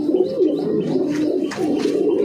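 Domestic flying pigeons at a home loft coo in a low, continuous, burbling murmur close by, with soft overlapping calls and no voices.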